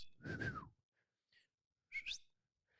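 A person whistles to call a dog: two short bright whistled notes, the first rising and falling, the second sharp and rising, close and clear in a quiet room.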